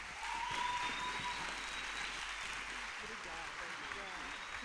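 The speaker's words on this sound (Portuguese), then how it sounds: "Palmas para ela!" Steady applause from an audience greeting a speaker at an education event, fairly faint and distant, with some voices mixed in throughout.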